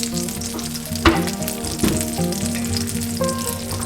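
Crispy pepperoni slices sizzling in a hot pan, a steady loud frying hiss with a couple of sharper spatters and clinks, no voices.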